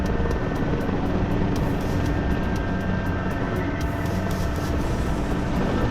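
Helicopter rotor noise from a flight combat game set in the Syria war, a steady dense drone that fills the whole clip with no pauses.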